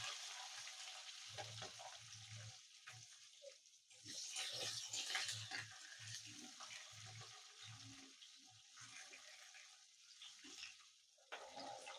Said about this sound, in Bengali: ক্যাপসিকামটা হালকা একটু ভেজে নিচ্ছি।